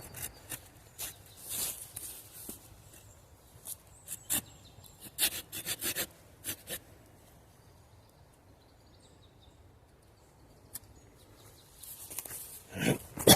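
Hand saw cutting a length off a wooden stick for a bushcraft pot hanger, irregular bursts of close rasping strokes with pauses between them, no talking.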